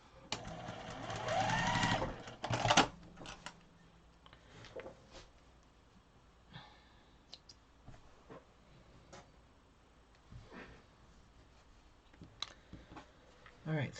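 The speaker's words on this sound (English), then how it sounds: "I gotta refinish sewing this first." Sewing machine stitching pink Broken Dishes quilt blocks: a loud, steady run of rapid stitching for about three seconds, then quieter scattered clicks and short mechanical bursts, with a voice speaking at times.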